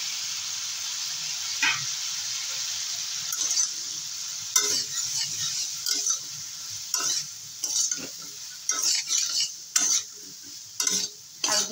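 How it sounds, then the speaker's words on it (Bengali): Drumsticks are sautéed in a pan with salt, turmeric and Kashmiri chilli powder. A soft sizzle sits under repeated sharp bursts of spatula stirring and scraping, close and irregular. "ভালো করে সজনেটাকে একটু কষিয়ে নেব।"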